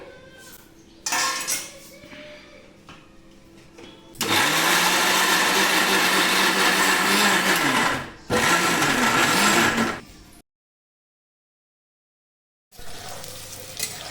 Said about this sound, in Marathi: आता मिक्सरमध्ये बारीक करून घेते बिना पाणी घालता हे सगळं बारीक करायचं आपल्याला